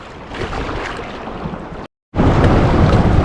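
Fishing boat on open water near Mumbai, heard as a steady broadband wash of wind, waves and engine rumble that cuts out briefly, then returns louder and closer.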